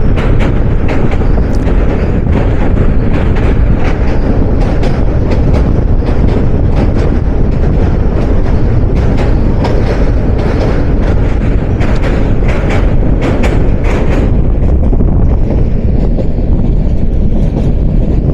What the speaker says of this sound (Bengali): আমাদের তিতাস কমিউটার বের হয়ে গেল নতুন ভৈরব রেল সেতু থেকে।